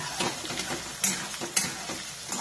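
Onion fries in a pan, giving a soft, continuous sizzle broken by a few louder scraping stirs, heard close and without voices.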